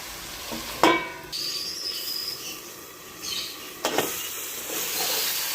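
Ginger, green chilli paste, turmeric, cumin and coriander powder frying in a pan: a low continuous sizzle with a couple of sharp scraping stirs, close and moderately quiet, no talking.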